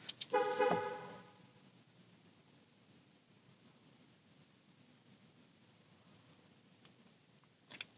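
The horn of a BAIC X55 II SUV gives a short, loud toot as the car signals its location in a parking lot, followed by near silence and a faint second chirp at the end.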